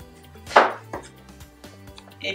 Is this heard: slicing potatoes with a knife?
yes